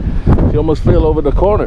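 Heavy wind buffeting the microphone with low rumbling gusts while someone speaks close up over it, outdoors in León, Nicaragua.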